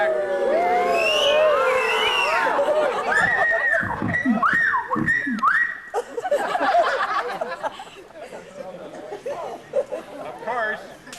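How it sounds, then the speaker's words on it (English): A melodrama theater audience reacts with rising oohs, aahs and whistles, loud and lively, tapering into scattered murmurs and chatter toward the end. "you show your approval with oohs, ahs, and whistling."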